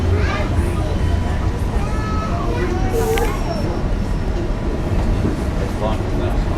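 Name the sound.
freight train with gas tank cars passing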